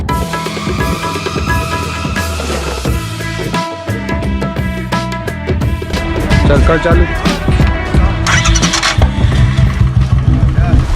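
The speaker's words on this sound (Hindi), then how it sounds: "बुलेट बाइक का हैंडल लॉक तोड़ देता है और वायर में छेड़छाड़ करके उसे स्टार्ट भी कर देता है" A Bullet motorcycle engine, hotwired after its handle lock is broken, cranks and catches, then runs loud and steady with a rough, throbbing idle that grows a bit stronger toward the end.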